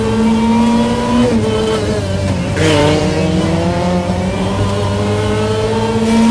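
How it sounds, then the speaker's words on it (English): Group B rally car at full speed, its engine note rising and falling through gear changes with a steady high supercharger whine layered over it, loud and close throughout with no talk. "And you can just hear the supercharger."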